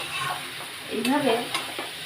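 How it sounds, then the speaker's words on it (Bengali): Cabbage curry with fish head being stirred and sautéed dry in a pan, close sizzling frying with a few scraping stirs of a spatula, no voices. "কষতে কষতে এই রান্নাটা হয়ে যাবে, একদম শুকনো শুকনো হয়ে যাবে।"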